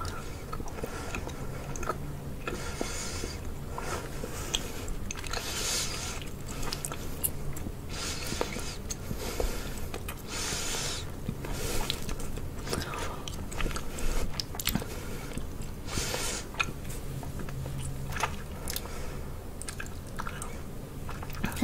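A giant cherry gummy is chewed and bitten up close, with steady wet, squishy mouth sounds and occasional louder bites. The sound runs continuously and fairly softly, with no talking over it.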